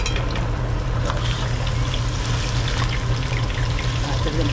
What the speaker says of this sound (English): Okay, so that's the plantain frying up there.